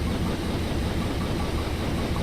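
In the video game Train Simulator, a locomotive engine idles as a steady, dense, low rumble with a constant level and no breaks or voices throughout.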